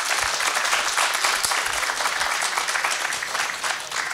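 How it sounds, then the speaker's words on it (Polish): An audience at an election debate in Kartuzy applauds, and dense, continuous clapping fills the whole stretch at a fairly even level with no speech over it. "państwo troszkę tak zwieńczą tę rundę gromkimi oklaskami dla naszych kandydatów"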